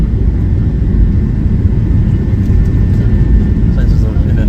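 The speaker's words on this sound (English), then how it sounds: "we are getting ready to land in Atlanta. So, should be hitting the runway very soon." Steady, loud engine roar fills a Delta airliner cabin on approach to land in Atlanta, a constant low rumble with no break throughout.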